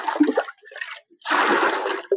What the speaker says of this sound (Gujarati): પાણી થોડું બહાર કાઢી લઈએ